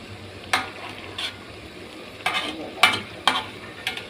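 Dried chillies stir-fry in a pan over a soft, steady sizzle, broken by about half a dozen sharp scraping strokes of a spatula at irregular intervals. Nobody speaks.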